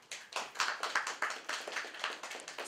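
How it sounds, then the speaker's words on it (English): A press-conference audience claps at a quick, even rhythm, faint and somewhat distant, with no talk over it. "I want you to give a big round of applause to CCT."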